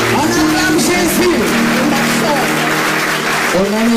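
A church congregation applauding and acclaiming Jesus, sustained loud clapping that fills the room, with a voice speaking or chanting over it throughout.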